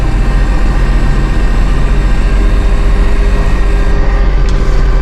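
A Massey Ferguson 1835M compact tractor with a standard cab and eHydro transmission runs steadily while turning, giving a loud, continuous low engine drone with no one talking.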